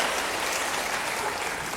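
A church congregation claps together in a short, dense burst of applause, steady and fairly close, with no voices over it.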